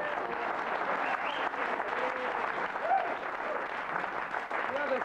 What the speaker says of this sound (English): I don't know why they're applauding that